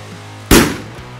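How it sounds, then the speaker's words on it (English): A small bottle explodes in one sudden, loud blast that decays quickly, followed by a softer thump a moment later. "that was the explosion caused by only one small bottle"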